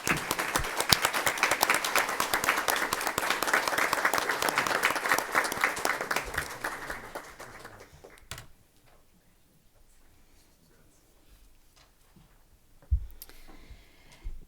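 Audience applause at a school music event honoring students, a dense burst of clapping that fades out after about eight seconds, leaving quiet room noise and a couple of soft knocks.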